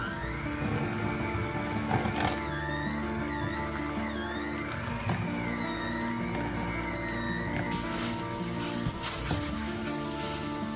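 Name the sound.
hand blender beating peanut butter, sugar and egg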